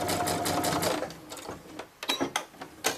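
A sewing machine runs a neat stitch along the edge of a tote bag, starting with a fast continuous whir and then breaking into short stop-start bursts.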